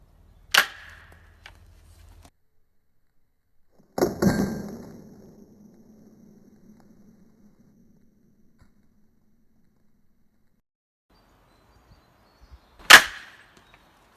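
Three separate sharp cracks from an airsoft gun fired with its blowback kick mechanism active, spaced far apart with long silences between; the second shot leaves a short ringing tail.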